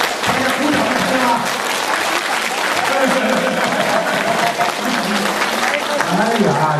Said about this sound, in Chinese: 大家鼓掌一下